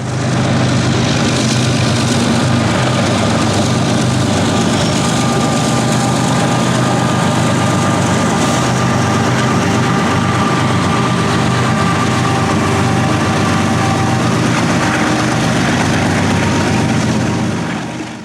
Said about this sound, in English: the engine on a GEVO unit makes a very distinct sound, a low rumble